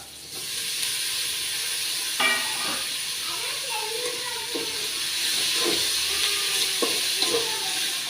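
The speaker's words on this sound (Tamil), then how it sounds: "வெங்காயம்லாம் வதங்கிடுச்சு அது கூட தக்காளியும் சேர்த்து வதக்கி விட்டுடலாம்" Onions and tomatoes sauté in a pan for a home-style fish fry, giving a steady sizzling hiss with occasional spoon stirs and clinks, close and continuous, with a voice faintly present in the background.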